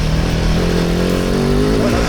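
Off-road trail motorcycle engine laboring up a muddy slope in Brittany, a loud close steady drone with the pitch slowly rising as it climbs in low gear.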